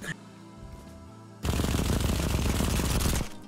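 Rapid automatic gunfire from a Vector submachine gun in the shooter game BattleBit, a loud sustained burst of about two seconds following a quieter lead-in, with a voice partly underneath.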